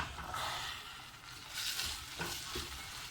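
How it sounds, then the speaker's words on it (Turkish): Kidney beans being sautéed with carrots and onions in a pan for a Turkish bean pilaki, giving a steady close-up sizzle with stirring scrapes throughout, no voices. "Yine 1-2 dakika kavuracağız."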